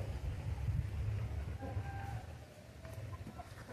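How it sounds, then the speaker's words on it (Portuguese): Chickens in a backyard poultry flock cluck softly at a distance, faint, scattered calls over low ambient rumble, with no talking. "Galinhas."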